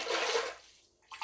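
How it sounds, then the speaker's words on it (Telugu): Water pours into a cooking pot while making a rice breakfast dish, a steady rush for about half a second that then fades into quiet, ending in a brief splash. "దీంట్లో నేను ఇప్పుడు 6 గ్లాస్ వాటర్ అయితే యాడ్ చేస్తున్నా"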